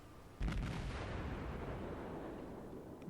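Naval gunfire in World of Warships, a cruiser firing in tier IV gameplay: one deep boom bursts out and rolls into a long, rumbling decay under constant background noise.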